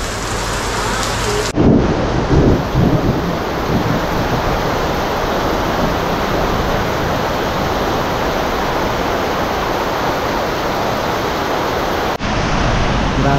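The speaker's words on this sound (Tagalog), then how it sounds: "Grabing lakas ng ulan." Heavy rain pours in a steady, loud roar with rumbling thunder during a downpour, heard up close while sheltering under a roof.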